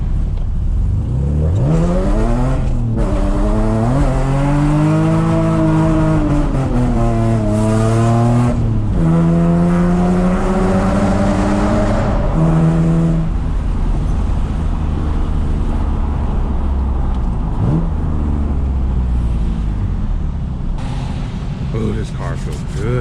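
A car being street drifted roars loud and close, the engine revving in repeated rising and falling swells, with harsh broadband tire noise smeared over it and voices talking at points.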